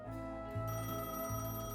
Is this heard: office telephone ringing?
yes